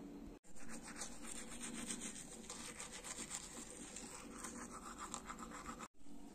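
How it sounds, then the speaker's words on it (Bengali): A toothbrush with toothpaste scrubs back and forth in a steady rapid rhythm, close and fairly quiet, with short pauses at the start and near the end. "এখন আমি দাঁত মাজবো।"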